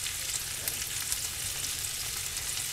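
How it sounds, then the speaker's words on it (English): Butter and avocado oil heating for frying sweet potato give off a steady, even sizzle with a bright crackling hiss throughout, with no voices. "Bit of butter with that avocado oil, let it get hot, and then we will add our sweet potato"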